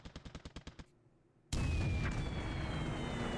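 Heavy 1,000-pound carrier-killer bombs striking ships in the War in the Pacific strategy game: a rapid string of about eight sharp blasts, a short lull, then one huge sustained roaring explosion that fills the rest, loud and close.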